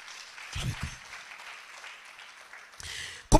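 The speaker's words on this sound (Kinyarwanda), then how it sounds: "Reka twongere Yesu amashyi menshi" Steady applause from a congregation at a church service, clapping in praise of Jesus, sustained at moderate level with a few low thumps near the start and a sharp burst at the very end.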